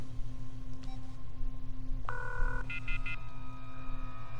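Electronic telephone tones ring out in the horror game The Coma 2, with a brief warbling ring and a few short beeps over a steady low hum and faint background drone, no voices.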